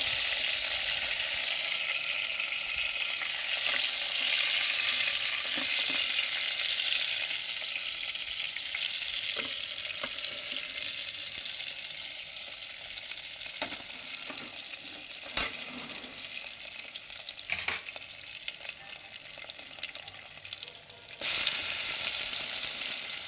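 Bottle gourd pieces frying in a pan as the first step of mutton bagara rice: loud, continuous hissing sizzle with scattered light clicks and scrapes of stirring.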